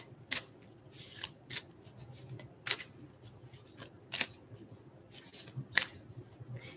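Tarot cards are shuffled by hand, making soft papery riffles punctuated by sharp crisp snaps about once a second over a quiet background.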